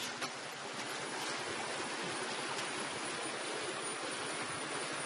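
Floodwater from a breached lake rushes through a coffee plantation in Chikkamagaluru, a loud, continuous broadband roar of flowing water that holds steady without pause.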